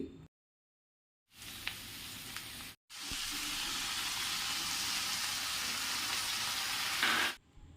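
Onion and curry leaves fry in a pan of hot oil, giving a loud, dense, continuous sizzle broken by two short silent cuts before it resumes and then stops abruptly.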